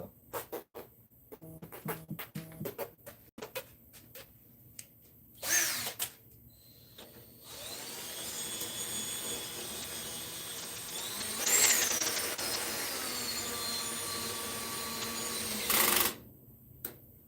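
A collet machine runs in bursts while cutting bushings, with short whirring runs separated by quiet gaps and a few mechanical clicks. The sound stays close and fairly quiet, and no one speaks.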